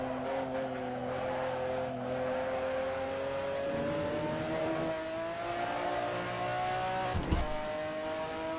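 McLaren F1 GTR race car engine in Assetto Corsa, a steady near drone holding a rising tone as it pulls through a long gear, with a brief rough burst near the end, alone without talk.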